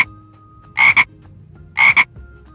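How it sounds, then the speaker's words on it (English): Two loud, close frog croaks, each a quick double burst, separated by about a second of quiet. "Do you know what sound a frog makes?"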